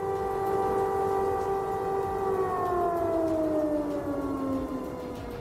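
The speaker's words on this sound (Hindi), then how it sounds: "कई ऐसे शहर हैं, कई ऐसे प्रांत हैं जहां इस वक्त सायरन बजते हुए नजर आ रहे हैं" A loud air raid siren wails steadily during a wartime air alert in Ukraine, its tone slowly sliding downward as it winds down, with no talking.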